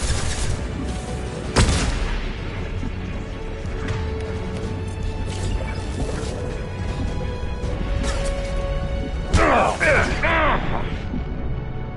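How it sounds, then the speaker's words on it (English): A flashbang goes off in a shooter game, with two sharp crashing blasts, one early and one late, cutting through steady battle ambience and mechanical clatter. "Watch out, flashbang!"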